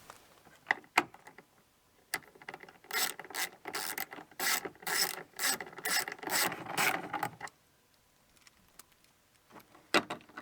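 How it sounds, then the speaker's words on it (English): A ratchet spins in a quick run of clicking bursts while two 10mm bolts are driven back in to secure the tail light on a 2008-2013 Subaru Forester, with a few sharp isolated knocks before and after, close and moderately loud. "we'll go ahead and reinstall those two 10mm bolts"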